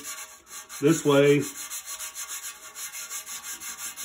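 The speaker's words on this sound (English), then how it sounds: "on the sandpaper, just to dress it, I go back and forth this way" A resin bonded sharpening stone is rubbed back and forth on sandpaper to dress it flat, giving one short, close scraping stroke that stands out above a steady background hum.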